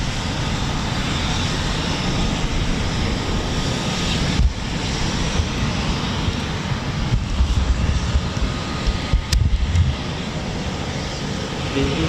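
RAF Eurofighter Typhoon FGR4 jets take off at RAF Coningsby, a continuous loud jet roar with wind buffeting, swelling and gusting over about twelve seconds with no talk.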